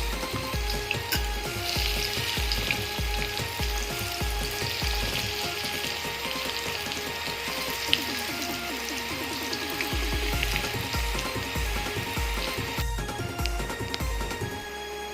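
Prawn lollipops deep-frying in hot oil give a steady, bubbling sizzle with fine crackles, continuous and moderately quiet, while low rhythmic thumps sound beneath it.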